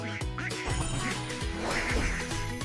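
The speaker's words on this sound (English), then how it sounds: "2 yellow rubber ducks. Quack, quack." Rapid series of squeaky, cartoonish quacks from a toy duck, repeated several times over a bright musical background.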